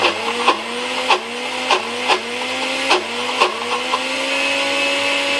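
A mixer grinder churns chana dal with sugar, its motor whirring loudly and steadily while the blades repeatedly catch and surge, producing rhythmic pulses about once a second.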